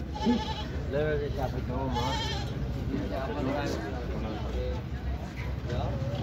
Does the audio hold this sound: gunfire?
no